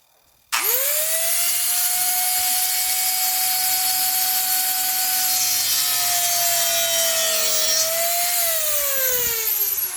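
A piece of wood, held steady by a small clamp, is sawn through on a second cut while building an armillary: one loud, continuous, steady cutting drone that starts abruptly and runs unbroken to the end, with no talking.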